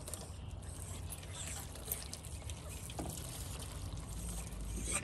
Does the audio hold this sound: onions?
no